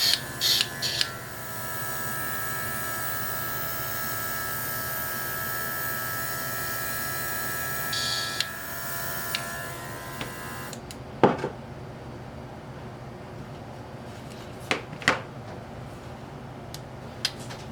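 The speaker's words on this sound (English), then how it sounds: "I'm going to lock it in and I'm going to airbrush that in a darker red." An airbrush sprays darker red paint in a steady, close hiss over a faint background hum for about ten seconds, then stops, leaving quiet room sound broken by a few brief clicks and taps.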